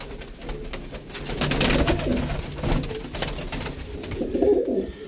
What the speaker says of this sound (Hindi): ये सियालकोटी देखें, ये चप सियालकोटी है।